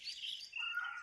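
Small birds chirp and tweet continuously at the Shembal Pimpri bus stand, bright high calls overlapping close by with no talking.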